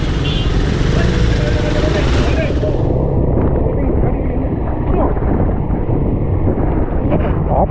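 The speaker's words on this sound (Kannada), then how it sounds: "ಈಗಲಿಗೆ ಫ್ಲೈ ಮಾಡ್ಲಿಕ್ಕೆ ಆಗ್ತಾ ಇಲ್ಲ, ಅಷ್ಟು ಗಾಳಿ ಉಂಟು ನೋಡಿ" Strong wind roars and buffets the microphone at a roadside by a broken-down Volvo bus on the Sampaje Ghat, a loud, continuous rush with no break.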